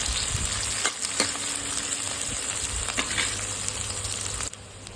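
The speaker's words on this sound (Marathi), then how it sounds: "कांदा पाहू शकतो आपला एकदम फ्राय झालेला आहे" Chopped onion frying in a pan while sambar is being made, giving a steady loud sizzle with occasional stirring scrapes and small pops, ending in a softer tail.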